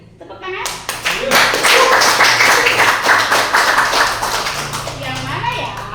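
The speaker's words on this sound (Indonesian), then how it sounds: "Ada Om Nurdin, tepuk tangan." An audience claps to welcome a guest onto a casual talk show, starting with a few sharp claps that swell into lively, close applause, with people talking and calling out over it.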